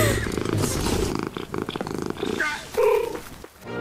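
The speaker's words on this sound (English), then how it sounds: "Okay, I want a pet giant cat now." A cat purrs in a deep, rhythmic rumble close up, with brief vocal sounds breaking over it before it fades out.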